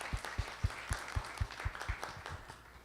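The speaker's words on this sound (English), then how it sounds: "Give yourselves a round of applause." Slow, scattered hand claps from a community meeting audience, about a dozen distinct claps spaced unevenly and fairly quiet, no voices over them.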